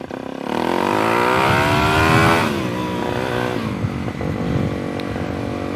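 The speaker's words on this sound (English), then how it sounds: "That was a pretty easy first gear wheelie" A Suzuki DRZ400SM fitted with a knock-off FCR 39 carburetor revs hard in first gear for a wheelie. The engine note climbs loud and close, then drops back to a rough, burbling idle.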